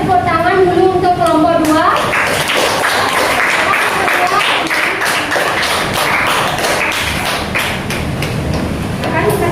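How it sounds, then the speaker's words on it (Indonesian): A school class claps for a student group after their presentation: a brief spoken voice at the start, then a burst of rapid, close, uneven hand claps filling the room. "Ayo kasih kita tepuk tangan dulu untuk kelompok 2"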